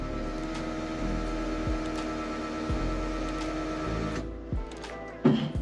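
A Walbro Motorsport 255 L/h fuel pump runs in a BMW E46 drift car, giving a steady, close mechanical whine and hum with a few soft knocks and a sharper clunk near the end.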